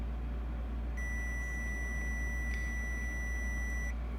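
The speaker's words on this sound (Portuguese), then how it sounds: "Deixa eu botar na escala de BIP." A multimeter set to continuity mode emits one steady high-pitched beep lasting about three seconds over a low electrical hum, with no talking.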